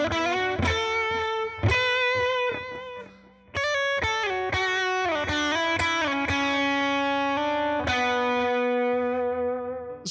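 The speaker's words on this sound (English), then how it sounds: "Let's pump up the gain a little bit more. Let's add that overdrive." Distorted electric guitar plays a sequence of sustained notes and chords, each attack ringing with gritty overdrive and long saturated tails.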